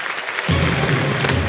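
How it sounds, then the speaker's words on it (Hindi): Studio audience applause for a contestant on the quiz show Kaun Banega Crorepati, a burst of clapping that starts abruptly after a brief quiet moment and continues dense and loud. "तालियां बज जाए इनके लिए"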